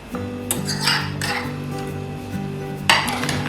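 A fork mixes omelette eggs, cream, salt and pepper in a mug, giving close, bright clinks and scrapes against the ceramic in an irregular stirring rhythm, with a sharper tap near the end.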